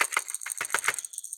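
Quick light clicks and rattles from clicking fishing lures repeat in an uneven rhythm, faint and close, with no voices.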